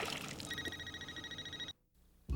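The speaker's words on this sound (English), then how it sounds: "The cell phone's ringing." A cell phone rings on a fishing boat during striper cast netting, a steady electronic tone with a pulsing beat sounding for about a second over splashing water, then cut off abruptly.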